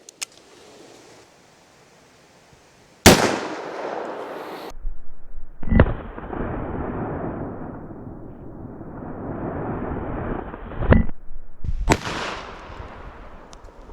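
Booming .44 Magnum shots from a Colt Anaconda revolver striking exploding range targets, several sharp loud bangs with rolling echoes and rumble between them, no talking.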